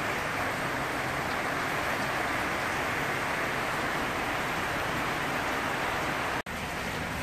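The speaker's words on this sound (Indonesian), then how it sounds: "hujan masih turun dan kolam ini sudah terisi sekitar 1 meter kubik air" Rain falls steadily into an outdoor biofloc fish pond, a dense, even hiss that holds unbroken at close range for the whole stretch, with only a momentary dropout near the end.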